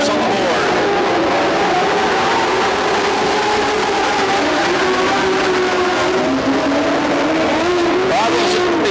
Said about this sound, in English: Here's the Dorf cars, 20 laps on the board.